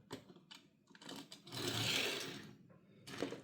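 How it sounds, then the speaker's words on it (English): A small die-cast Audi RS5 racing toy car from 2016 rolls on its wobbly rear wheel, giving a close, uneven mechanical rattling whir that swells and fades over a few seconds. "The rear wheel wobbles a lot actually, produces a lot of noise."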